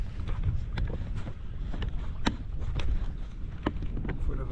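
Low rumbling wind buffeting the microphone, with scattered sharp clicks and knocks over a steady roar.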